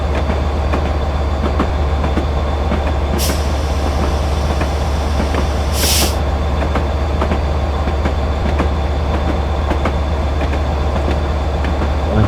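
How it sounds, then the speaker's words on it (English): A special railtour train running on rails through a junction, with a loud, continuous rumble and rhythmic clickety-clack of wheels, joined by two brief high-pitched squeals or whistles partway through. "there's a special train coming through"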